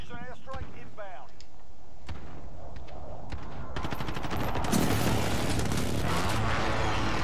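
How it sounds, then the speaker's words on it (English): Precision airstrike in Call of Duty Modern Warfare on the Azhir Cave map, gunfire and clatter building into a long, loud rumbling blast of explosions, with a voice talking over the start. "Be advised, friendly precision airstrike inbound."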